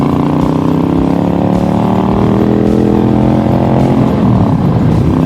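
A Honda Shadow cruiser motorcycle engine runs steadily while being ridden through the first snowfall of the season, a loud, close, continuous rumble with layered harmonic drone and no talking.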